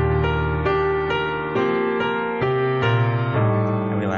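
Solo piano plays a measure from the B section of a song in a reharmonized arrangement, with several sustained chords struck one after another at a slow, even pace and no talking.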